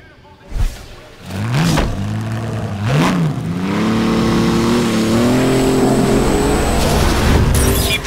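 A race car in The Crew Wild Run on a shakedown lap, its engine revving up through several quick gear changes, then a sustained high-rpm whine, loud and close.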